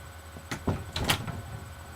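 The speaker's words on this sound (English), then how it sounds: "So sorry for that bang. That was me closing the door" A door closing indoors gives a few quick knocks and thuds: a sharp impact followed by a softer rattle, fairly close and moderately loud in a quiet room.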